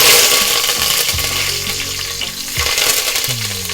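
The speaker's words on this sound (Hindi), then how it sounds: "इसमें हम कड़ी पत्ता डालेंगे" Curry leaves drop into a hot pan of oil for a Mangalore chicken curry and sizzle loudly and continuously, crackling and spitting up close with some stirring clatter, and no voice is heard.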